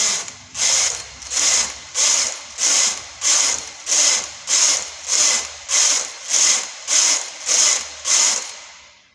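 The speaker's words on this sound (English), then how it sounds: "Now I'm going to knit straight 60 rows." Knitting machine carriage pushed back and forth across the needle bed while knitting straight rows of an adult knee-high sock, a loud close swishing rasp repeating in about a dozen even, regular strokes with no talk.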